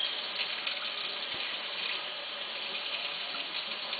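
Tap water runs steadily while a green guenon monkey is washed, a constant close hiss of flowing and splashing water without a break.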